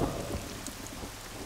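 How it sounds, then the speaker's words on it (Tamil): Heavy rain falls in a steady, dense hiss with low rumbling underneath, suggesting thunder, in a brief, fairly quiet stretch with no voices. "இவ்வளோ நல்லா மழை பெஞ்சிட்டு இருக்கிறதால ஜனங்க யாரும் வெளியே வர மாட்டாங்க"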